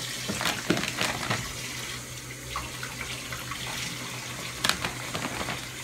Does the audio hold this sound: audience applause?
no